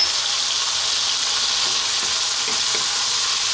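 Ripe, juicy tomatoes with chili powder or cayenne sizzle steadily in a pan over lively heat for a green bean stew, a dense, continuous frying hiss close up with a few faint clinks partway through.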